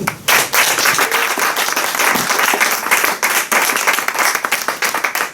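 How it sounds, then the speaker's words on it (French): Lively audience applause at a voice-themed gathering, loud, close and sustained, with many hands clapping in a dense rapid patter that holds steady throughout. "Martine Masquelin, vous pouvez vraiment l'applaudir."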